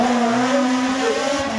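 Race car at the 2019 Quettreville hill climb, a loud, sustained high-revving engine whine held steady and close for a brief moment, with no talk over it.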